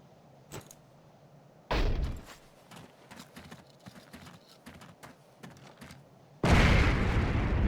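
In Forgotten Hope 2, a Geballte-Ladung bundled grenade charge bursts against a tank with a heavy, loud boom, followed by scattered clatter and another powerful roaring blast near the end.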